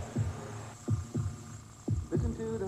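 Heartbeat sound from a Chevrolet commercial aired during a 1987 race broadcast at Dover Downs: five low, throbbing thumps in uneven pairs over a steady hum, no talking.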